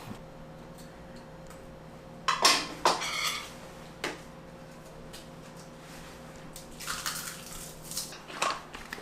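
Dishes, pots and cutlery are washed in a home kitchen, with scattered clinks and clatters of crockery and metal against a steady low hum, some bursts louder and closer than others.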